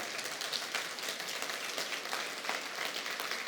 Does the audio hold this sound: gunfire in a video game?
no